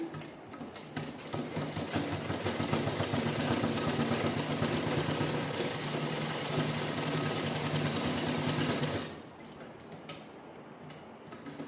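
A sewing machine hums and ticks in one long continuous run while stitching a laptop cover, then stops, leaving a quiet room.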